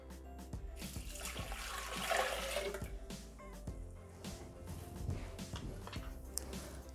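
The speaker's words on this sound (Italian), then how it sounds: "Mettere nel boccale l'acqua." Water is poured into a Thermomix jug, a steady splashing trickle with faint clinks of the jug over a low hum, close and moderately quiet.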